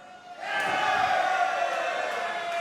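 Wrestling arena crowd rising into loud sustained cheering and shouting, a dense roar of many voices that swells after a quieter start and holds steady.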